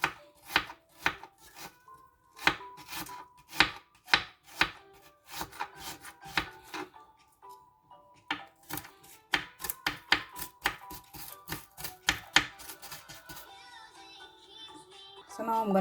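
A knife chops scallion and onion very small on a board, with rapid, crisp, evenly spaced taps in quick bursts and short pauses, close and clear.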